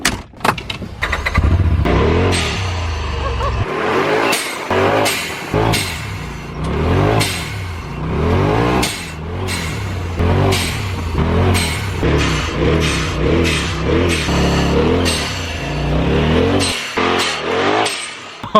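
A turbocharged Polaris RZR Pro XP side-by-side fitted with a blow-off valve drives close by, its engine rising and falling through repeated loud revs with sharp venting bursts between throttle changes.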